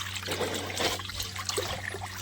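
Water sloshes and trickles nearby as kitchen towels are moved and rinsed in a basin of clean water, with soft splashes over a low steady hum.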